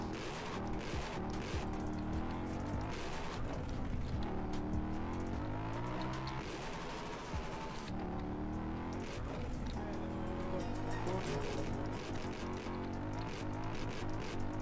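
Motorcycle engine revving hard during a ride through a favela in Brazil, with dense, continuous engine roar and shifting pitch sweeps that rise and fall with throttle, loud and close throughout; faint speech mixed in.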